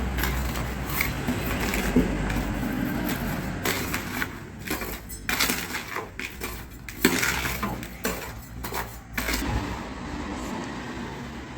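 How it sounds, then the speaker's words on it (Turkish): Dry mortar mixed by hand with a trowel in a container, a continuous scraping and grinding with irregular clinks and thumps, close and fairly loud with no talk. "Şöyle kurudan arkadaşlar kuru şekilde harcı karıştırıyorum."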